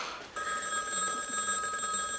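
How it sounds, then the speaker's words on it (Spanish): A telephone bell rings in a continuous trilling burst that starts abruptly after a quiet moment and holds steady, fairly close and clear, with no talking over it. "Teléfono."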